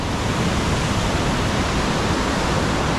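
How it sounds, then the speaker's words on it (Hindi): Loud, fast-flowing water rushes through a canal cross regulator as a dense, unbroken roar that fills the whole clip, with no voices. "यहाँ पे बहुत जो है ना शोर है इस पानी का इतनी तेज़ रफ्तार है इस पानी की"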